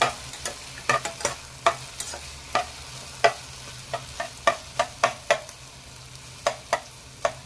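Okra frying in a pan with turmeric and salt, a low sizzle under a steady series of distinct scraping stirs, close and clear, with no voices.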